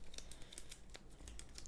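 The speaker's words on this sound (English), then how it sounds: "So we can just shuffle these up as well." Iron Bank cards for the Game of Thrones board game are shuffled by hand, giving quick, close papery flicks and crisp snaps in an irregular rhythm, with no talking.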